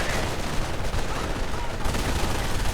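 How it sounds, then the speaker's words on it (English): Bursts of MG42 machine gun fire in a World War II strategy game, dense rapid rattling with overlapping gunfire from other weapons, loud and continuous across the whole moment. "Lots of machine gun fire"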